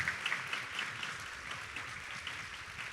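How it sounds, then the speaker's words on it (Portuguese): An audience at an education forum in Vale do Paraíba claps steadily in a sustained round of applause for municipal and regional coordinators, a dense, even crackle of many hands that fades slightly toward the end. "Uma salva de palmas para vocês."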